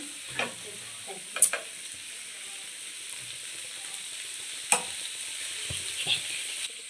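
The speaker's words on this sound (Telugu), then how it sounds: "ధనియాల పొడి ఇందులో ఫ్రై అవుతున్నాయి" Coriander powder fries in a pan, giving a steady, close sizzling hiss throughout, broken by a few sharp spatula clicks and scrapes as it is stirred.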